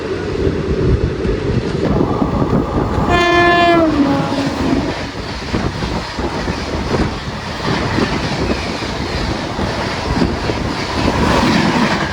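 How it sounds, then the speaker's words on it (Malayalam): A passenger train departs Pappinisseri station: a loud horn blast comes early, then a steady close rumble with wheel clatter continues with no talking. "പാപ്പിനിശ്ശേരിയിൽ നിന്ന് നമ്മുടെ വണ്ടി ഡിപ്പാർട്ടായി."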